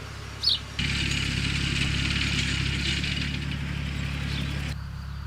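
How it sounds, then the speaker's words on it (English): A tractor engine on a farm in Portugal at harvest time cuts in abruptly and runs at a steady, loud, even drone for about four seconds before stopping sharply. "Is the tractor a bit scary?"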